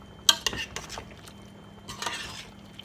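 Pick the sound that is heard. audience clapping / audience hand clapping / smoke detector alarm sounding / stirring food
stirring food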